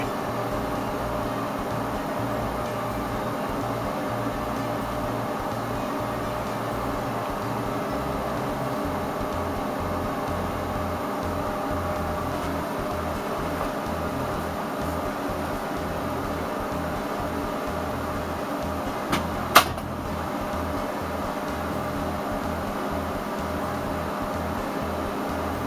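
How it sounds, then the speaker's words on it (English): A microwave oven runs with a steady, even droning hum throughout and no voices, broken only by a brief faint click near the end. "we're going to sit here and watch this microwave do this for a minute"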